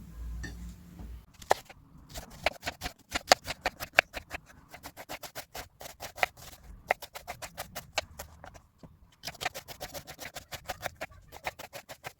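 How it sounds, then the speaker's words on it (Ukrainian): Rapid knife chopping of onion and tomato on a cutting board, quick rhythmic taps in bursts with short pauses, close and fairly quiet. "Нарізаю цибулю та помідор середнім кубиком."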